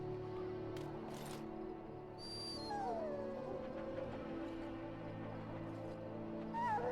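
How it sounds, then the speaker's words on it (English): A dog in Dragon Age Origins makes soft whimpers and high whining yelps over a steady low ambient hum, faint and intermittent across the scene. "Now I can treat the dog properly, poor fella."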